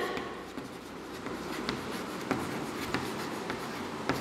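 Chalk or marker scratching across a board in short strokes, with brief sharp ticks as letters are formed, close and fairly quiet in a room.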